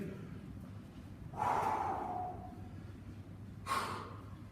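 Fencers breathing out after exercise: two distinct breathy exhalations, the first longer and fuller, the second short, close and clear over a low background hum.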